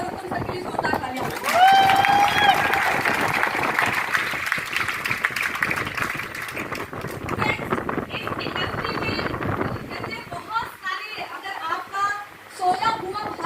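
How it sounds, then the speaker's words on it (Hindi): An audience in a school hall breaks into loud sustained applause that swells, holds for several seconds and fades, with a voice talking over parts of it. "तो मैं चाहूँगी एक बार तुम सबके लिए जोरदार तालियां।"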